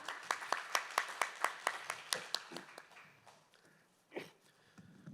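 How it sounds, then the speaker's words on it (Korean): Audience at a Korean power-industry summit claps to welcome a KEPCO researcher to the stage; a burst of distinct, fairly close hand claps that thins out after a few seconds, followed by faint room noise and a stray thump. "여러분 큰 박수로 맞아주시기 바랍니다."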